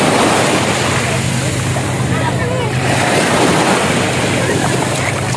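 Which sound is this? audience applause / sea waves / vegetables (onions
sea waves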